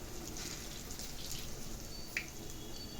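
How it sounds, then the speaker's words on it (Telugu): Fritters of moong dal batter mixed with curd deep-fry in hot oil, giving a steady, close, hissing sizzle throughout with a faint tick of bubbling oil. "నూనె కాగితే ఇలా పైకి తేలుతుందండి పునుగులు చూసారండి ఇలా పైకి తేలి ఎలా వేగుతున్నాయో"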